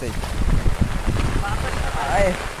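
Strong wind during heavy rain in a rural village, blustering and rumbling into the microphone in gusts while someone talks over it.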